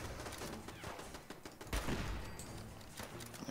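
An automated turret in Fallout 4 fires sustained rapid bursts of gunfire, a steady rattling fusillade with a louder crack partway through, heard at a moderate distance without speech.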